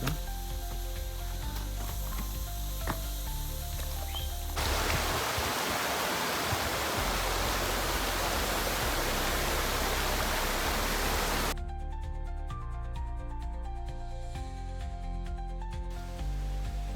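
Ubbalamadugu waterfall runs with a low flow of water, giving a broad rushing wash that swells loudest in the middle stretch, with quieter ambient noise before and after.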